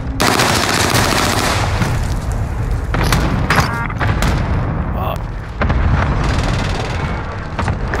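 Heavy gunfire and explosions in the Call of Duty Warzone video game during an attack, with loud bursts of automatic fire and booms filling the clip and a voice calling out over the battle.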